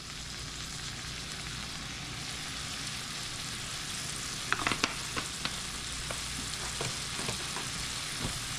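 Seasoned chicken pieces fry in a pan for a stir fry, giving a constant close sizzle with a scatter of sharper pops and crackles in the second half.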